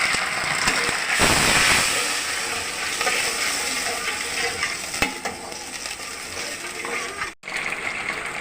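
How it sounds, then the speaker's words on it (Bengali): Chicken legs stirred in a frying pan with soy sauce and a splash of water, giving a steady loud sizzle with scraping spatula strokes and clicks, briefly cutting out near the end. "সয়া সস দিয়ে এটাকে নাড়াচাড়া করে দেবো। মধ্যে সামান্য জল দিয়ে দেবো।"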